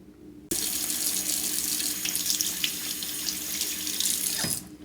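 Water from a bathroom tap gushes steadily for several seconds to rinse off a low-foam facial cleanser, starting abruptly and cutting off just before the end.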